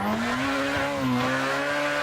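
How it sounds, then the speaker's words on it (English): Drifting car in the racing game Assetto Corsa, its engine holding a steady high note while tires squeal continuously through a sustained slide, loud and close with no talk. "You want to link and connect real fast, go fast, drift fast"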